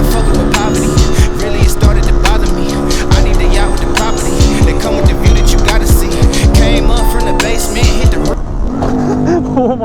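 A small engine screams at very high revs, loud and close, holding a sustained harmonic whine with brief dips and surges before dropping away near the end.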